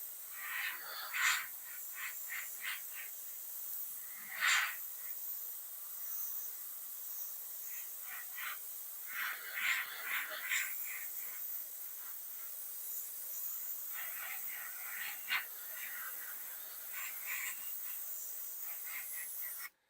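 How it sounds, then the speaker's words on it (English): An airbrush sprays white paint onto a Boba Fett design on an HJC motorcycle helmet, giving a steady, faint hiss broken by repeated short bursts of spray at an irregular rhythm, with no one talking. "How can you not be in love with the airbrush?"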